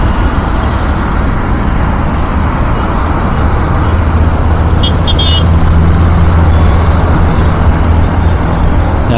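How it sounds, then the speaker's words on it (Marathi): Heavy highway traffic during a rush of vehicles: a loud, continuous roar of cars, buses and trucks passing close by, steady for the whole stretch with no voices. "हायवे पकडला, आज थोडासा रश दिसतोय गाड्यांचा"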